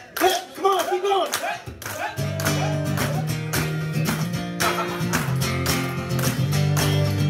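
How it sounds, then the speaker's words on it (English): At an acoustic concert in Estherville, Iowa, the audience claps along in a steady beat beneath strummed guitar and singing, with the regular clapping continuing through the rest of the song. "Let me get you guys clapping."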